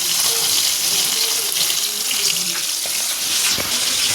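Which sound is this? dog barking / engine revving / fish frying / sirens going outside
fish frying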